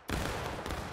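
A sudden, dense volley of musket-style gunfire from a company of soldiers in a VR video game. The crackle begins almost at once and keeps roaring at full loudness, with a few sharper cracks standing out near the end.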